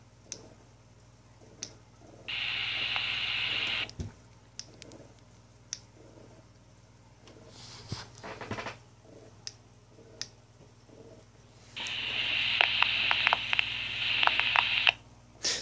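Two bursts of a harsh, scratchy radio repeater tone from a UV-5R handheld radio, each lasting a few seconds, separated by quiet with scattered clicks and faint static.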